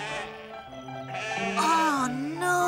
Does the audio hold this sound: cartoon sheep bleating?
yes